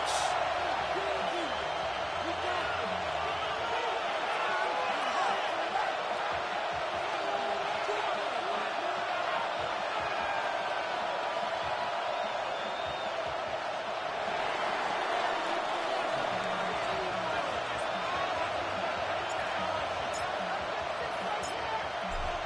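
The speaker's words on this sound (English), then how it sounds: "The crowd is definitely ready." Steady stadium crowd roar in an EA Sports NFL football video game, Denver Broncos against New England Patriots, a broad continuous wash running for the whole stretch beneath a commentator's voice.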